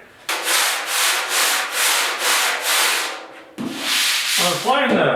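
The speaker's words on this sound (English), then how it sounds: "I'm applying the glaze putty to the rear fenders on Project 56 here." Glaze putty being spread on the rear fenders of a 1956 Mercury pickup, a series of loud close scraping strokes in a regular rhythm, followed by a short burst of rougher rubbing.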